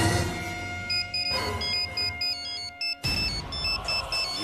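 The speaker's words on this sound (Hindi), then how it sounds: "ये क्यों फोन कर रही है मुझे?" An electronic phone ringtone plays a repeating melody of high beeping notes over a steady background hum.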